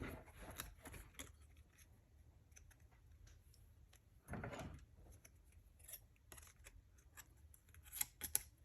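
Scissors snip through a card to trim it to size, a series of quiet, close clicks and short cuts spread unevenly through the stretch, with one longer slicing stroke midway.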